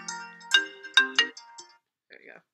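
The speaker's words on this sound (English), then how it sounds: "The computer dings when the phone rings." A computer chime signals an incoming phone call, a ringtone-like run of bright tonal dings in quick succession, close and clear, followed by a brief softer tone.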